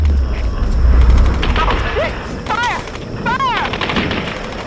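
Rapid gunfire rattles in a Tomb Raider action game on hard difficulty, loud and close bursts mixed with shouting voices and whistling ricochet-like sweeps.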